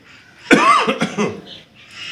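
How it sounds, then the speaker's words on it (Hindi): A single sharp cough, close and loud, followed by a brief rough trailing breath, then quiet. "खांसी हो गई आपको"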